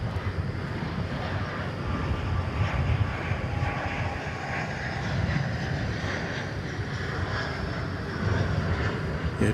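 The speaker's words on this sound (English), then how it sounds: "Did we see that plane coming in from Los Angeles, the one that went around?" An airliner inbound from Los Angeles passes over DFW Airport with a steady, broad engine roar that holds at a fairly constant level throughout, mixed with a little wind rumble.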